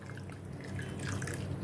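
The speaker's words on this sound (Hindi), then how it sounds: "3/4 ग्लास पानी डालती हूँ।" Water pours into a pressure cooker holding soaked chana dal, a brief steady splashing trickle with faint watery bubbling, close and quiet, alone without talk.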